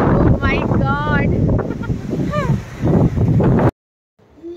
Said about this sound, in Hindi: ये देखिए ऐसा लग रहा है इंसान उड़ जाएगा, ऐसी इतनी तेज हवा चल रही है।